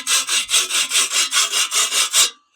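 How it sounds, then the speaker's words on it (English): A modern sharpening stone is stroked along a metal blade in a quick, even rhythm of about ten rasping passes. The strokes sound loud and close, then stop abruptly. "this is a modern sharpening stone"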